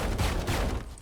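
The Judge shotgun firing in the tactical shooter Valorant, a quick run of booming blasts packed into about a second, loud and close.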